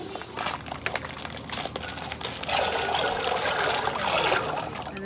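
Water pours over dried Camellia red beans set to soak, rising into a steady close splashing rush in the second half after earlier bag rustling and handling sounds.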